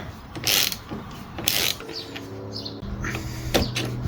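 Ratchet with an E12 socket working on a Fiat 500 engine, bursts of fast metallic clicking from the pawl as the handle swings back and forth, close and fairly loud, with brief pauses between strokes.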